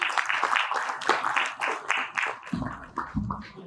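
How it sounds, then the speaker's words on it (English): An audience applauds to welcome an architect onto a stage at a design panel event, with moderate rhythmic clapping that thins out, while a low voice briefly speaks over the end. "please give a round of applause to welcome architect Vishal Kakriya on stage"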